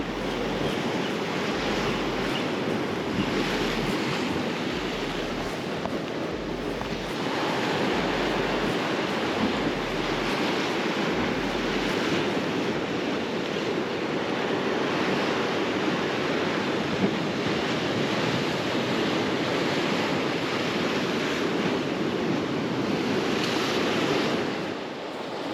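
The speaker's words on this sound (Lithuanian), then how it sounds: "vėjas rimsta, tačiau bangos dar didžiulės pakankamai" Large ocean waves break on the Tenerife coast on a morning when the wind is easing. The surf is a steady, loud roar with gusts of wind over it, continuing for the whole stretch with no voices.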